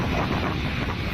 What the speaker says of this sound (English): And it's so windy, sorry.